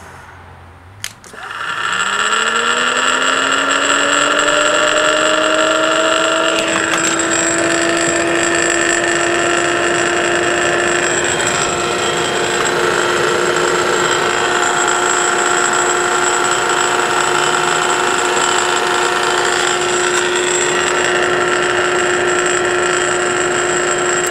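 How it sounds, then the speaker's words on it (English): Electric forklift motor run on 12 volts, switching on with a click and spinning up to a loud, steady whine with strong tonal hum that holds constant, with a slight rattle and no talk. "hook up 12 volts to this motor"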